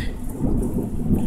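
Thunderstorm over a residential street, with heavy rain pouring steadily and low rumbling thunder rolling underneath, loud and close, no voices.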